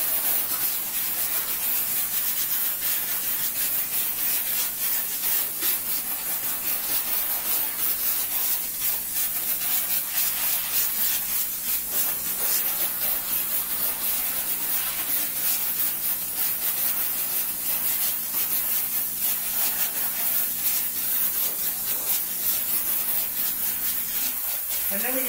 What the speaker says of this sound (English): The hose is going to fill up with the no rinse and it's going to spray the cleaner on the